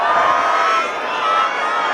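A large crowd at a Sikh wedding shouts the jaikara response together in one loud, sustained collective cry.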